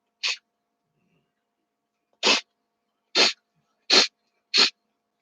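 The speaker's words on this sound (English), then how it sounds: "I just sneezed." Five separate human sneezes, one isolated burst followed after a pause by four more in fairly quick succession, each short, sharp and close with silence in between.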